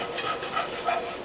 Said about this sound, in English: But I'm gonna saute onions with mine. Onions and garlic.